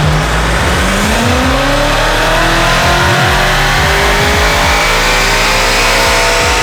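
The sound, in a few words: BMW M5 engine revving on a dyno run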